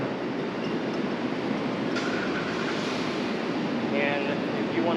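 A Los Angeles metro train at 7th Street Metro station gives a steady, loud rumble of rail noise, with faint wheel squeals and a bright screech near the end.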